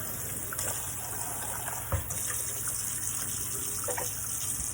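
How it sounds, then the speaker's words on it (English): Water runs steadily from a tap, rinsing disinfectant out of a storage bin, a continuous close gushing and splashing with a few small knocks against the bin and no talking. "And I also started rinsing my the disinfectant out of my bin here."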